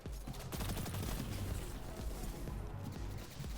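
Rapid gunfire in Destiny 2 Beyond Light, dense bursts of shots and impacts crackling continuously at close range with no pause.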